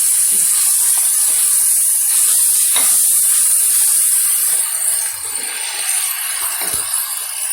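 Onions added to tomato water in a pan for an Afghani omelette sizzle and fry loudly and steadily, with a bright hiss and occasional stirring scrapes.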